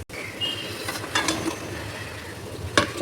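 Khasta gaja sweets frying in oil, a soft steady sizzle with occasional metallic clinks and stirring scrapes from the pan, moderately close and without talk.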